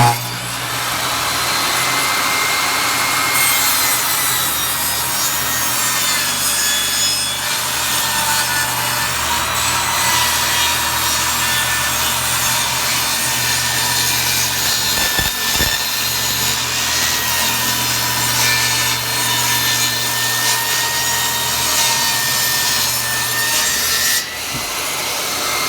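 A power planer running over hardwood flooring boards: a loud, steady high-pitched whine and cutting rasp that holds for over twenty seconds, with a brief thump partway through before it winds down near the end.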